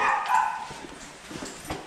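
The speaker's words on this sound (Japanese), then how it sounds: "今泣いてるのが飼ってる犬っすね" A pet dog inside a family home gives a loud, high whining cry that fades within the first second, followed by faint scattered noises.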